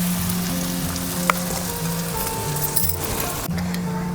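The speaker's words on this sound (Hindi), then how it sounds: "मैं डाल रही हूँ इसमें प्याज। और इनको भी अच्छे से भून लूँगी।" Garlic and onions frying in a pan, a loud close sizzle with a faint clink partway through, steady and without speech.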